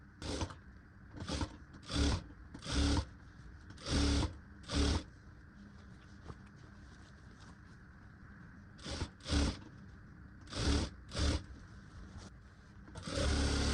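A sewing machine stitching the waistband of a princess-cut blouse, running in a string of short, evenly spaced bursts with pauses of near quiet between them and one longer gap in the middle; no one speaks.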